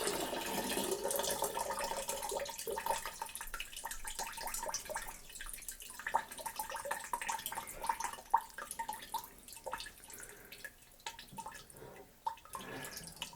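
Pineapple juice poured off from a bowl while making a one-gallon batch of mead, a steady trickling and dripping of liquid heard up close throughout, with no talking.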